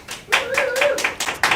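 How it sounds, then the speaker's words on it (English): A few individual hand claps in a TV studio setting, spaced roughly evenly and close by, with a voice speaking underneath them. "So a nice round of applause for Steve Nathan of Strategic Campaigns."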